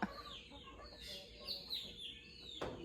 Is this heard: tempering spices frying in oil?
no